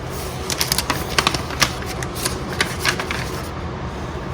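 A plastic bag crinkles and rustles in quick, irregular bursts as tomato seeds are bagged up by hand, close and fairly loud, with a brief lull toward the end.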